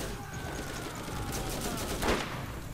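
Rapid gunfire from the Borderlands video game, a dense stretch of shots at steady loudness with a stronger blast near the end, heard alone without voices.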